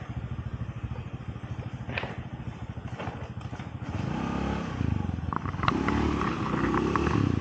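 A motorcycle engine runs steadily while riding village roads near the Cianjur, Garut and Bandung border, its close, pulsing drone rising and growing rougher partway through.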